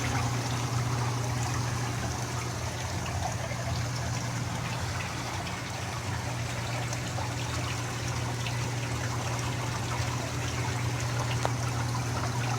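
Constant trickling and splashing of water cascading down inside a reef aquarium sump, with a steady low pump hum underneath, moderately loud and unbroken, no voices.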